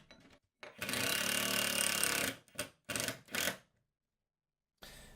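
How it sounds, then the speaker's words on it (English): A screw is power-driven through a metal bracket into a pilot-drilled hole in an MDF sheet, giving a loud sustained buzzing whir followed by two shorter bursts, then a quiet pause and a brief final burst. "Put the screw through the hole in the bracket, into the hole that's already been pilot drilled."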